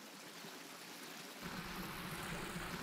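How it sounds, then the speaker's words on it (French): Water gushing from a well and flowing out into open countryside, a steady broadband rush that thickens and grows louder about halfway through, with no voices. "C'est incroyable de voir autant d'eau s'écouler dans la nature."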